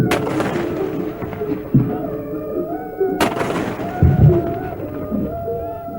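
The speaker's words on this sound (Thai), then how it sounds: "ทหารเรือยิงปืนใหญ่เฉลิมพระเกียรติฝ่ายละ 21 นัด" Two heavy booming shots from a 21-gun artillery royal salute fired by army and navy at a Thai royal ceremony ring out a few seconds apart, each echoing and rolling away, with a distant crowd murmuring in between.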